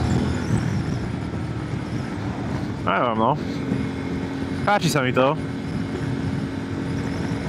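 A Yamaha Tenere 700 with its CP2 twin-cylinder engine drones steadily underneath as it is ridden, a constant mid-loud rumble mixed with wind, while a rider speaks briefly twice over it.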